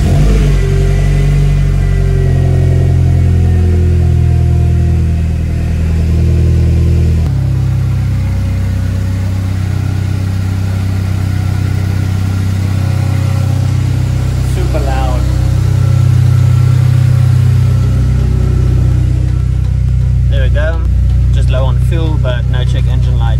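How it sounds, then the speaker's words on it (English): A Mercedes C180 Kompressor W203 with the M271 engine runs close by, a loud steady idle hum with a few blips of revving near the end, while a voice talks over it. "I'm gonna start up the car and just show there's nothing actually wrong with it"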